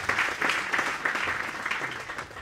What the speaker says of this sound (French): Voilà, ça peut applaudir.